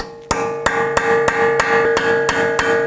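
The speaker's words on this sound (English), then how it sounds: "use a punch or a chisel tip here to go ahead and undo that rolled piece here" A hammer strikes a punch to unstake the front axle nut on a 2018-2024 Toyota Camry. About eight sharp metallic blows fall at a steady, even rhythm, loud and close, each leaving a ringing tone.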